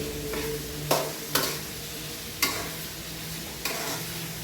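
Ginger, garlic and tomato sizzle in a pan for beef roast, with four sharp, separate scraping strokes of a spoon over a steady low fry.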